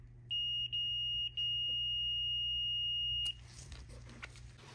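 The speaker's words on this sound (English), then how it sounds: "The speaker that's good should produce sound at the contact points. That is, continuity, like this." A continuity tester beeps while probing the contact points of an iPhone 12 Pro Max loudspeaker, a steady high tone broken by a few short gaps and then held before stopping abruptly, over a low background hum.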